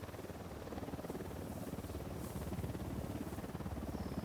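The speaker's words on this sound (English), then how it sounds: "is that a chopper I can hear?" A helicopter flies nearby in the Ghost Recon Wildlands video game: a faint, steady rhythmic rotor thump with a soft engine whine, continuous for the whole stretch and heard alone.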